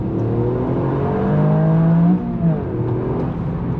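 A Toyota GR Yaris engine revs while driving, with automatic rev-matching on the gear shift: a loud, continuous close drone whose pitch climbs, holds, then dips and rises again around the shift, with no voices.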